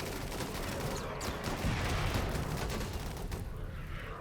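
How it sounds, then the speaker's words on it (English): Dense, continuous gunfire from a RimWorld raid, with blasters, burners and miniguns firing together in a loud sustained barrage of overlapping shots and booms with no pauses. "Just run into all the shooting."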